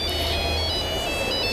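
A giant cell phone ringtone from the Trigger Happy TV prank show plays as a continuous, loud electronic melody with steady tones throughout, with no voices over it.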